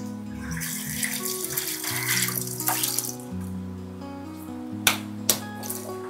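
Cool tap water running over a West Point pressure cooker's rubber gasket as it is washed in a sink, a steady splashing stream with a couple of sharp knocks near the end.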